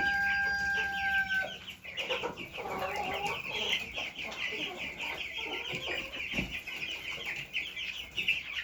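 A flock of broiler chickens clucks and chatters continuously at close range, with several overlapping calls and someone speaking briefly over them.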